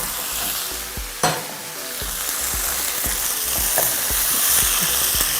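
Half a kilo of chicken fries in a pan with coriander and poppy seed paste for a drumstick chicken curry: a steady close sizzle broken by repeated clunks and scrapes of stirring.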